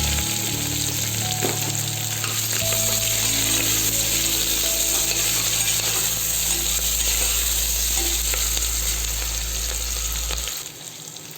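Onions, green chillies and curry leaves frying in hot oil in a pan, a steady loud sizzle with occasional stirring clinks, continuing unbroken until it drops away near the end.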